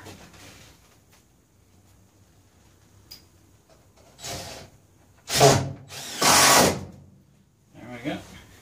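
A power drill drives wood screws into a stud inside a step van, several short loud whirring bursts separated by quiet pauses, close by.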